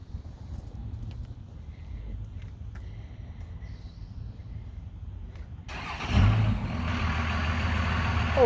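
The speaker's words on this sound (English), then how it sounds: "Oh wow, that was a loud truck. It's a diesel, I think." A loud diesel truck rumbles past: quiet low background for several seconds, then a heavy, close engine roar surges in and stays loud to the end.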